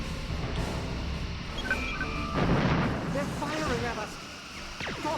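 Ship weapons firing in Mass Effect 3: a burst of booming blasts and rising energy-weapon zaps layered under game sound effects and tones, moderately loud and fairly close.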